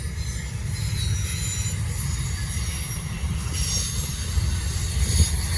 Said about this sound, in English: So this train's running about an hour late right now.